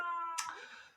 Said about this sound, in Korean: 우리 고양이 키우는데 고양이가 옆에서 야옹야옹하네.